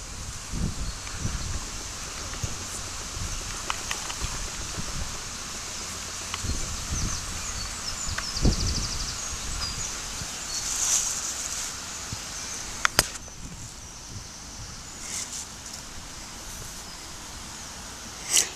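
Wind blowing outdoors, a steady broadband rush with gusty microphone buffeting and leaf rustle, plus a couple of brief sharp knocks, with no talking.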